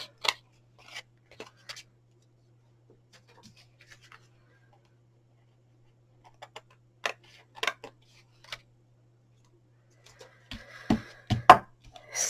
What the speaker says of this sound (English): I'm going to trim it and see how I feel in